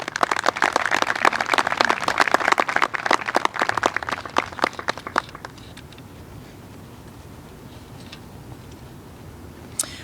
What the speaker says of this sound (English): Round of applause for the Witham family